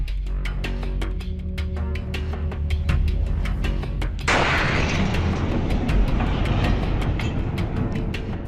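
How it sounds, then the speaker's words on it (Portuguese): A meteor explodes over Chelyabinsk, Russia, producing a sudden loud boom that breaks over a series of sharp repeated cracks and gives way to a sustained roaring rumble, heard from a distance outdoors. "O estrondo assustou muita gente."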